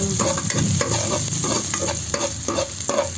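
Garlic sautéing in hot oil in a pan, a loud close sizzle broken by rhythmic scraping strokes of a spoon stirring, with no one talking.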